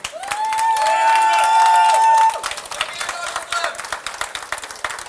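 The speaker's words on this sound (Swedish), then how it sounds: "Vi inleder med en peppande applåd för Jonas." An audience at a cooking competition semifinal in Karlstad claps and cheers for a chef, loud applause filling the room while a tonal music cue rings over the first half and a voice speaks throughout.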